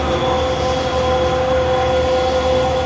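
A wine press rotates and tumbles grapes inside its drum, giving off a steady mechanical hum with a constant tonal whine and a rumbling churn throughout.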